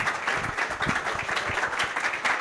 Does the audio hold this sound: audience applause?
yes